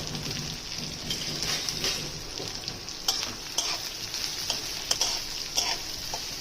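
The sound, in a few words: onions sautéing in a pan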